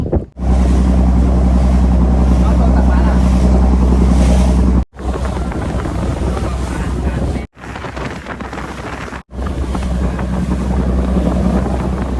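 A boat engine drones steadily while riding out on the water toward an island homestay in Thailand, with heavy wind buffeting the microphone and a loud, continuous low rumble broken by a few brief cuts.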